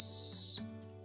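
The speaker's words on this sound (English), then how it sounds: "the heart-shaped thing is a whistle. And although it's not straight, it works." A small heart-shaped resin whistle gives one short, bright, high-pitched tone that cuts off after about half a second.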